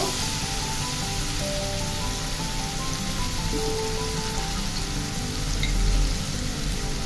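Garlic paste frying in hot oil while being mixed for red amaranth greens with rohu fish, giving a dense, steady sizzle with soft hiss throughout, close and fairly loud, without speech.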